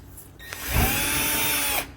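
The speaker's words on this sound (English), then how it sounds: "we're going to drill out and auger out some holes in the same position on each side" A power drill whirs up and runs steadily for about a second, augering a hole in a Halloween haunt prop, then spins down; close and fairly loud.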